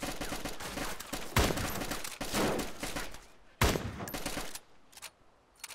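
Rapid bursts of video game gunfire, loud volleys of shots crackling in quick succession with two sharp heavier blasts standing out, the firing cutting off near the end.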